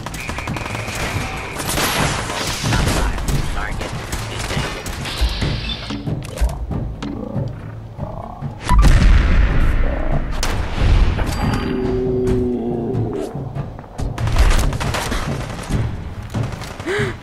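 Cannon fire from a flying pirate ship in Fallout 4 booms in a rapid, irregular barrage of heavy blasts and thuds that overlap and swell louder partway through.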